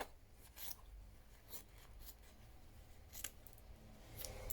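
Scissors cut out a piece of fabric in several quiet, close snips spaced irregularly, with no talking.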